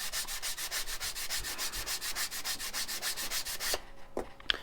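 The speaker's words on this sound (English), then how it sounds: "So start off slow, sand for a few, and then flip them over and do the same thing." Rhythmic hand sanding of a part for a Legend Hobby CG stand, steady back-and-forth rubbing strokes close up, then a few light knocks and handling sounds at the end, no voices.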